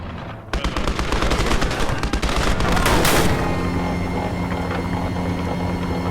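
Gates of Hell battle sounds: rapid machine-gun bursts rattle over a dense rumble, then a heavy artillery boom around the midpoint leaves a long roaring wash of distant fire.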